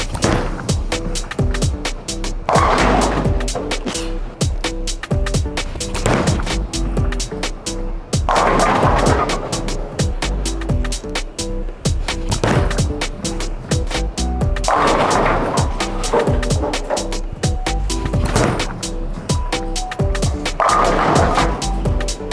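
Bowling balls, including a big asymmetric ball, rolling down the lane and crashing into pins, with several shots in a row across the clip, each a long rumble ending in a loud clatter.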